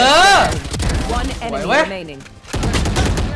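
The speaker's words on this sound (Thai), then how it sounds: "แต่กูว่าปืนแพนทอมนี่ใช้ได้เลยเนี่ย ยิงง่าย" Phantom rifle from the video game Valorant firing in sharp bursts, loud and up close, with excited talk over the shots.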